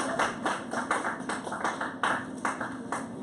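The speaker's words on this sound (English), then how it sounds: "give yourselves a round of applause" Comedy club audience claps in bursts, a close, bright patter of hands rising and falling in waves with no speech over it.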